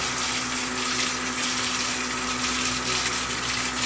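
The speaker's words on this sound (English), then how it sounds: "Got some hot water." Hot water runs steadily from a tap, a continuous loud hiss and splash, close by and uninterrupted, with a faint low hum underneath.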